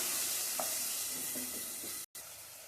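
Steady sizzling of tomatoes sautéing in a hot pan, with a few soft stirring scrapes and a brief dropout near the end.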